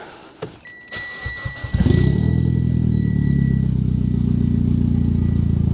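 A Mitsubishi Lancer Evo X, running without its exhaust silencers, cranks briefly after some faint clatter, then fires into a loud, deep, steady idle that fills the rest of the clip.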